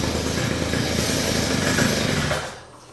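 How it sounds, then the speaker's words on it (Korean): A petrol brush cutter runs loud and steady with a dense engine drone close by, then cuts off and fades away near the end. "이렇게 시동을 걸고 작업을 하면 되는데요."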